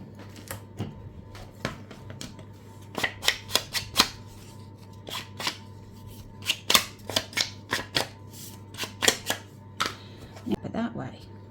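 Scissors snip through paper for a gold tulip craft, with a run of sharp, close cuts that come in quick bursts and pauses against a quiet background.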